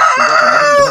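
A rooster crows once, loud and close, in a single drawn-out harmonic call lasting about a second.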